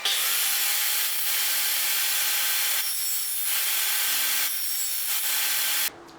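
Wood is being hand-sawn to trim a piece during a guitar build, heard as steady rasping strokes with brief pauses between passes. The sawing is close and loud, with no voices, and it stops abruptly at the end.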